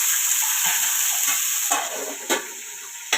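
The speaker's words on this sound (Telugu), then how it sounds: "మనం ఆయిల్లో వేసినాం కదా ఇట్లా" Tomatoes fry in hot oil for a stuffed tomato curry, giving a steady close sizzle with a few sharp pops near the end.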